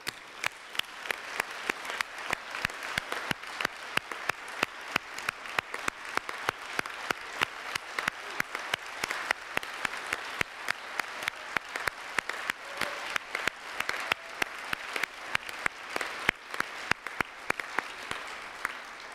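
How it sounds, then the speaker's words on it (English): Rhythmic audience applause at the ITU PP-22 closing ceremony, a steady run of sharp, synchronized claps from a hall crowd lasting the whole stretch, moderately loud. "So let's give him a round of applause."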